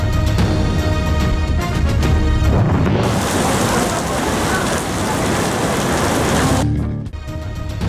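Heavy rain pours down in Karachi, a dense, loud, continuous hiss that swells through the middle of the clip, with no talk audible.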